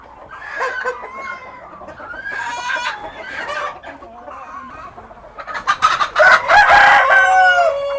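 Philippine native chickens crowing and clucking up close, several loud crows overlapping with steady clucks, building to a dense burst of calls near the end.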